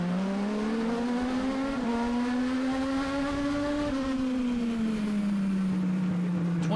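Pack of Legends race cars at speed on the Charlotte Motor Speedway oval during a semi-pro feature, a loud steady engine drone rising and falling in pitch as cars sweep past, with no voices on top.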